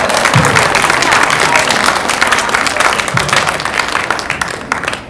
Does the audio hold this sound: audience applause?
yes